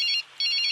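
A phone ringtone rings in a 2016 Hindi action film scene, a bright electronic trill in two bursts separated by a brief gap, loud and alone.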